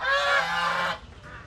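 A single loud, nasal goose honk close by, lasting nearly a second, then a quieter trailing call.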